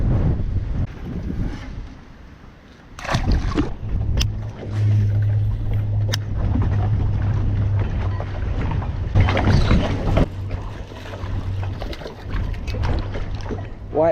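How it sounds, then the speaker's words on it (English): Heavy wind buffets the microphone during bass fishing from a boat near Fort Worth, a loud, continuous rumbling roar with gusts that rise and fall. "Dude, this is hard wind"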